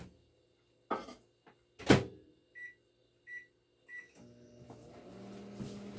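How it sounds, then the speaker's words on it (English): A microwave oven is used to melt butter in a bowl: the door thumps shut, three short beeps sound as buttons are pressed, and then the oven starts with a low, steady hum. Everything is close and there is no talk. "My bowl again and pop this in the microwave"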